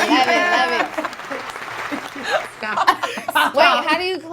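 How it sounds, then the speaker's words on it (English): A small studio audience clapping briefly while several people laugh and chatter over it during a TV review show, with the claps soft and intermittent beneath the voices. "I love all the clapping"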